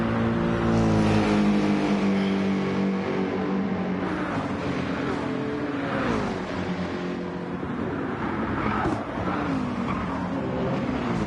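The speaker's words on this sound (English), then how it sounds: "do sound great as they come buzzing past the cars, the AMG and the McLaren." AMG and McLaren GT race cars buzz past at the Nürburgring 24 Hours in 2023, their engines a loud, sustained roar with shifting pitch as they pass close by, with no talk over them.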